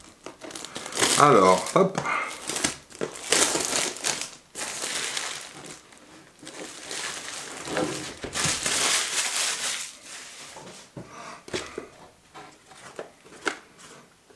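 A box cutter slices open a parcel, then packing is crinkled and torn, producing bursts of crackling and ripping with short pauses while someone speaks French briefly.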